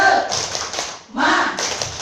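Rhythmic "tepuk semangat" clap chant in a kindergarten teaching session: several sharp bursts of group clapping in a quick pattern, with voices chanting along.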